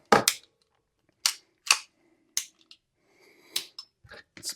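Trigger pull on a Kimber Stainless II .45 ACP 1911 pistol measured with a gauge: a series of sharp, close, dry metallic clicks and snaps in an otherwise quiet room, spaced unevenly over a few seconds.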